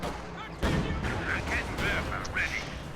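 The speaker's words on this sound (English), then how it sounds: "Panzer Shrek shot on the T-34, pushes that back slightly" A Panzerschreck rocket strikes a T-34 tank in a WWII strategy game, a sharp blast at the start giving way to dense, continuous gunfire and explosions across the battlefield, with a voice talking over the din.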